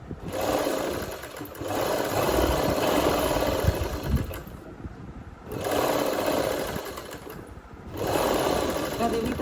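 An electric sewing machine stitching a suit runs in bursts of steady, rapid whirring with short pauses between runs, close and fairly loud, with a voice speaking over it.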